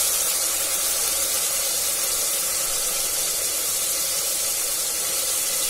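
Finely ground onion paste fries in a hot pan for mushroom biryani, a loud, even, unbroken hiss of steam and sizzle that holds steady throughout with no voices.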